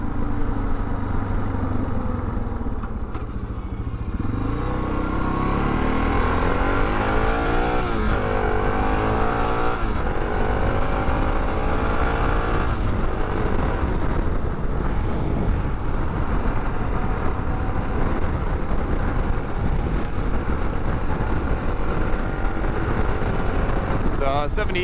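A Suzuki DR650 dual-sport motorcycle fitted with a new windshield cruises on a highway, its engine droning steadily under loud, continuous wind rush. The engine rises in pitch as it accelerates early on, and a rider talks over it.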